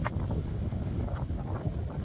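Strong wind buffets the microphone on the open Bonneville Salt Flats, a loud continuous low rumble with gusty swells and no voices.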